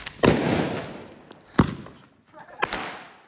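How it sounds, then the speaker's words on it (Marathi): Diwali firecrackers bursting outdoors, three sharp loud bangs spaced about a second apart, each trailing off into a crackling decay, with faint voices in the background. "माझा फटाका फुटला."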